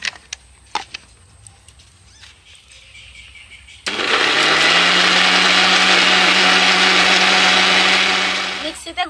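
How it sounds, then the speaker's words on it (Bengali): An electric mixer grinder blends raw potato with water into a paste. After a few quiet knocks it starts abruptly and whirs loud and steady for about five seconds before winding down. "মিক্সিতে ঘুরিয়ে আমি আলুটাকে খুব ভালোভাবে পেস্ট করে নিয়েছি"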